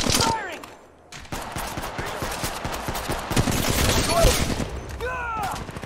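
Rapid gunfire in the mobile shooter Apex Legends Mobile, loud bursts of automatic shots rattling almost continuously after a brief pause, with chirpy game effects and a voice speaking over parts of it.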